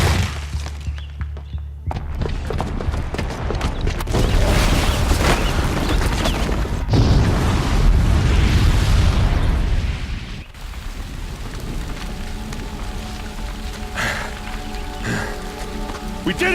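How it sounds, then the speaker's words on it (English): A booby-trapped bomb goes off in Horizon Zero Dawn: a loud, sustained roaring blast with crackling debris that rumbles for several seconds, then drops to a quieter bed of game sounds and music. "the booby trap on the bomb downstairs is gonna get set off"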